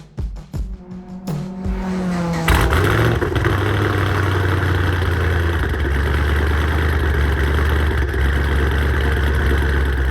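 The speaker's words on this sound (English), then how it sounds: "it is time to drive this monstrous Camaro" A twin-turbo 2013 Camaro SS making over 1000 horsepower starts with a few sharp cranks and bursts, then settles into a loud, steady, rumbling idle close by, with no talking.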